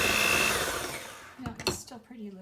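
An electric mixer beats batter in a bowl with a loud, steady whir that fades and stops after about a second, then short spoken comments follow.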